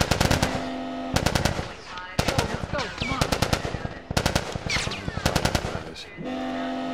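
Rapid automatic gunfire in The Last of Us Remastered combat, loud bursts of repeated shots separated by brief gaps, with a steady low hum and whooshing game effects between volleys.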